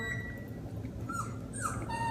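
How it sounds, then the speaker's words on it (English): A dachshund whimpers and cries with faint, thin high whines over a steady low background hum, quiet and somewhat distant. "I had a little wiener dog Doxy baby here that was crying her heart out"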